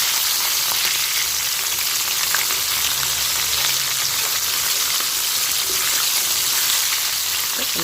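Homemade KFC-style chicken frying in hot oil gives a dense, continuous, close sizzle and crackle that holds steady throughout, with no talking.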